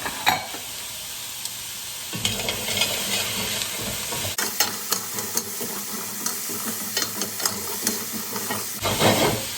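Garlic cloves sizzle steadily in a hot pot as a beef stew is started, a continuous bright frying hiss with scattered crackles and pops, close and fairly loud, with no talking.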